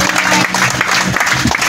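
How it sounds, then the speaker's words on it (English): A church congregation claps for Jesus at a gathering honouring elderly people, a dense, continuous burst of applause filling the room, with a voice faintly audible underneath. "Clap for Jesus."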